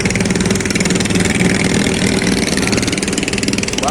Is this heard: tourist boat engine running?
yes